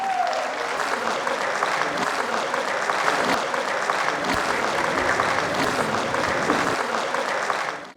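Studio audience in a Pakistani television talk show applauding as a guest walks on stage, a loud, continuous wash of clapping that holds steady for several seconds before cutting off.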